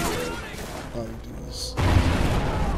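Gunfire from a weapon in an online shooter video game set partly on a boat, bursts of shots and booms mixed through game noise while a player talks over the top.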